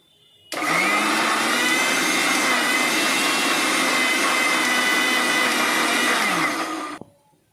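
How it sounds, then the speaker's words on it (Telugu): A mixer grinder whirs steadily for about six seconds while grinding spinach and green chillies. The motor is loud and close, starts abruptly and cuts off sharply, and no one speaks. "ముందు మిక్స్ పడతానండి"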